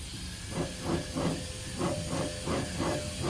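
Worn bearings in a never-serviced rear differential give a gritty, pulsing grind. Rough whooshing surges repeat about three times a second, close and steady, with no talk.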